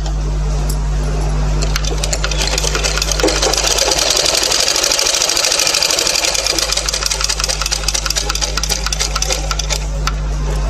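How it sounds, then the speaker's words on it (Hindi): A sewing machine stitching a kurta seam, a loud close rapid mechanical whir and clatter running steadily throughout over a low motor hum, no speech. "तो अभी हम यहाँ से यहाँ तक एक आधा इंच छोड़ के सिलाई डाल देते हैं और यहाँ हमें डबल सिलाई डालनी है।"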